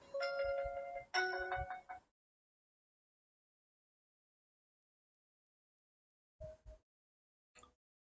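A phone rings with an incoming call, two loud electronic ring bursts in quick succession, then silence and a shorter, fainter chirp later, with no voices.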